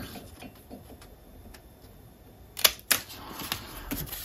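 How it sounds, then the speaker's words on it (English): Quiet, sharp snips of scissors trimming washi tape on a mini album page, a few brief crisp clicks close by, with two louder cuts in quick succession near the end. "so I'm going to trim it with my scissors."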